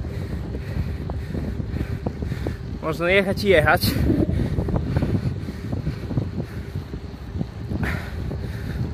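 Cold wind buffets the microphone with a constant low rumble while someone speaks briefly over it.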